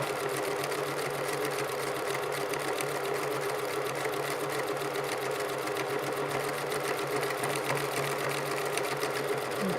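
A sewing machine stitches a circular seam in a steady, continuous run, its rapid needle rhythm close and even throughout with no pauses.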